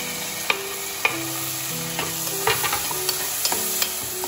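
Onions, tomatoes and green chili sautéing in a pan for biryani, with a soft steady sizzle and a spoon scraping and tapping the pan in irregular strokes, close and without talk.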